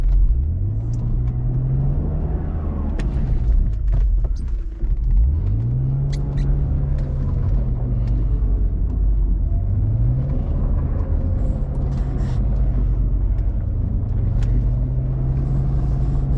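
A BMW E46 car reversing out of snow, its engine rumbling steadily up close with three rising whines as it pulls back, and no talk.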